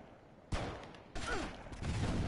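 Gunfire in a heist video game: a loud burst of shots breaks in at about half a second, then a second, denser volley follows and the shooting carries on steadily to the end, with no talk over it.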